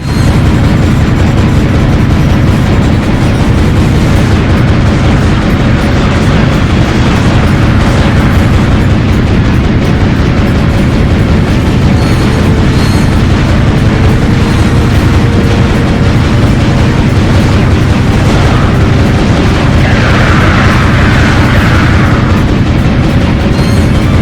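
Continuous loud battle din from the video game Ratchet & Clank: Up Your Arsenal, with dense rumbling explosions and booming covering fire layered thickly throughout, never letting up.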